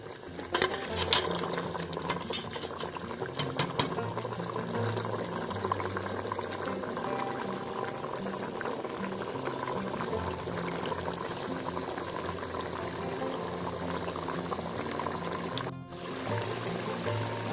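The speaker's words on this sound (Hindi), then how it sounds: "अब ये पाए भूनने शुरू हो गया।" Goat trotters (paye) frying in a pot for a paye curry, giving a steady, even bubbling sizzle throughout, with a few sharper crackles early on and a brief dip near the end.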